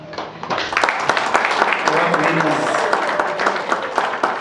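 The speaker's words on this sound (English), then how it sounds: "Let's just give a round of applause to all our winners." A crowd at an awards ceremony in Zimbabwe applauds steadily, dense overlapping claps filling the room for several seconds, with a murmur of voices underneath.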